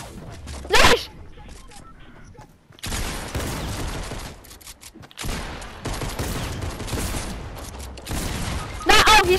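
Gunfire in the video game Fortnite, with loud bursts of shots near the start and end and quieter shooting in between, heard under players talking.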